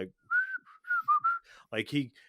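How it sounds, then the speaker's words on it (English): Someone whistles a short jaunty tune entering a room in the film Way of the Dragon, clear bright notes in a few phrases, ending with a brief burst of voice. "he comes into the room whistling"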